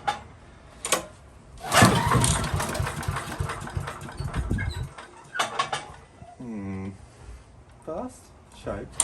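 MTD chipper shredder engine being cranked on full choke at full throttle, bursts of pull-start effort and brief sputtering engine noise, close by, with someone talking between attempts.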